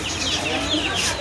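Hens cluck at a poultry and bird shop in a rural village market, with a steady run of close clucks over a busy background murmur.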